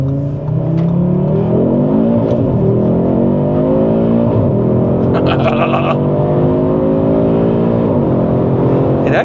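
An Audi RS3 with a turbocharged engine accelerates hard on an open road, its engine note climbing steadily through the gears in a smooth, rising drone heard from inside the car, with brief pauses at the shifts.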